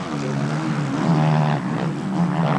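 A Honda CRF 450 motocross bike races at an MXGP event in Japan, its engine a loud, close, high-revving buzz that climbs and wavers steadily throughout.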